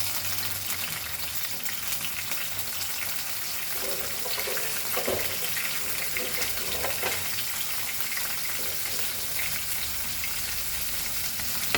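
Onion and tomato sautéing in a small tablespoon of oil, giving a steady, moderately loud sizzle and hiss throughout with faint stirring scrapes now and then.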